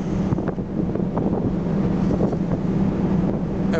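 Aboard a ferry leaving the port of Brindisi, sea waves and strong wind roar loudly and steadily right against the microphone, with continuous buffeting rumble and the wash of water.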